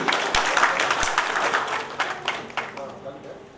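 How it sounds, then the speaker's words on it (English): Audience applause at a literary festival's inaugural session, a steady wash of many hands clapping throughout, with a few sharp louder claps standing out near the start and the sound gradually thinning toward the end. "Ladies and gentlemen, a round of applause"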